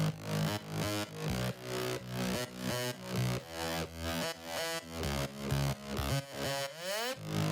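An Aurora synth bass pattern plays in a layered drop bass stack, pulsing in steady, punchy rhythmic hits with pitch and octave jumps, loud and alone.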